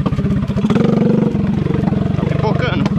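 A Mini Max motorcycle engine labors and pops along a muddy trail, a loud, close, rapid pulsing thump with uneven bursts throughout.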